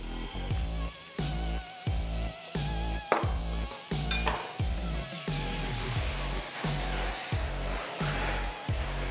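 Butter sizzles in a hot pan while noodles are being cooked, with a steady hiss and repeated clanks of a utensil scraping and knocking the pan in a loose rhythm, loud and close, with no talking.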